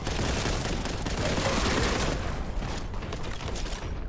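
Dense, unbroken gunfire from many enemies fills a room in the Space Marine video game, a loud continuous wall of shots with no pause.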